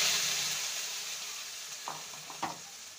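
Ground spice paste hits hot oil for a spicy green bean curry, sending up a loud, dense, continuous sizzle that gradually eases, with a few soft stirring knocks near the end, no voices.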